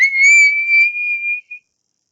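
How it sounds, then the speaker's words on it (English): A referee's whistle blown to start a match, a single loud, shrill blast lasting about a second and a half with a short final chirp, alone and close. "The sound of her whistle"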